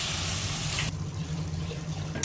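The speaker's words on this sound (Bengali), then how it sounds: "আর এবার এর মধ্যে দিয়ে দিচ্ছে সামান্য জল।" A little water poured into a pan of chicken and fried almonds for shahi chicken gives a brief, loud, rushing hiss that drops to a softer sizzle after about a second, with no voices.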